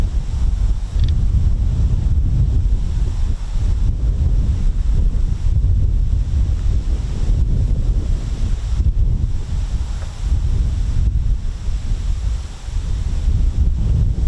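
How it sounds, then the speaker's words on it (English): Strong wind roars across an open microphone at the RAF Marham airfield, a loud, continuous buffeting rumble with no voices. "Very, very windy here."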